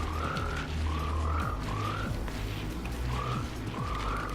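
A frog in the video game Vindictus croaks repeatedly, short rising croaks coming every half second or so over a low, droning game ambience, fairly close and clear.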